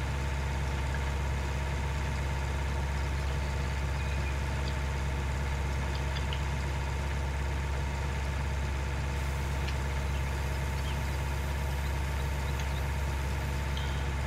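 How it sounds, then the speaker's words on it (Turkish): Massey Ferguson 265 tractor in Farming Simulator 19 pulling a Claas baler, its engine straining: a steady, unbroken low drone that holds for the whole stretch with no talk over it. "Şöyle bir iki tane yaptık ama traktör biraz zorlanıyor bizim."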